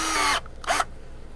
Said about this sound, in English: I'm gonna drill me a 1-inch hole